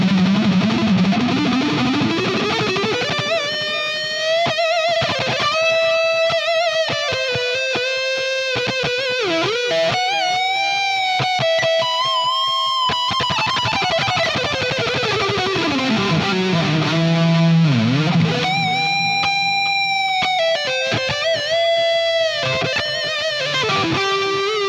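An Ibanez Prestige RG1570 electric guitar on its neck pickup plays a heavy distorted riff, loud and continuous, with sustained bent notes, fast runs and sliding pitch sweeps.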